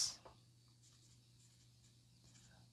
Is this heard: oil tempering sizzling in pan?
no